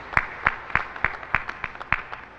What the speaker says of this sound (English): And so I want you to applaud your efforts.